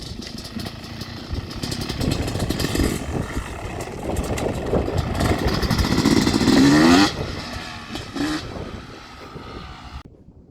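A Yamaha YZ250 two-stroke dirt bike rides around a bumpy paddock, its engine buzzing and revving close and loud for about seven seconds before dropping off to a quieter, fading drone.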